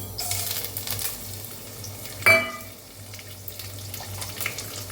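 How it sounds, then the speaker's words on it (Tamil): Food sizzles steadily in hot oil, with a brief louder crackle and clink partway through as something is added. "எண்ணெய் காஞ்சிருச்சு இப்போ நம்ம இதெல்லாம் போட்டுருவோம்"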